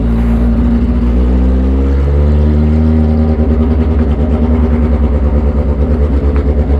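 A 2015 Kawasaki H2 supercharged motorcycle engine idling loud and close, a deep steady thrum that settles into a rapid pulsing beat partway through, with no voices.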